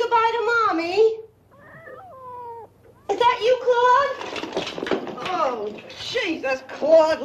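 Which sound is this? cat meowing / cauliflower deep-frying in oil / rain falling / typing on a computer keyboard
cat meowing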